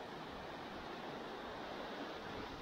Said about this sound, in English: The creek is rolling,